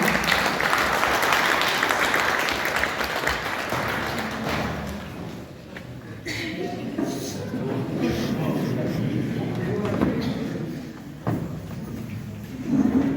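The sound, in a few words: applause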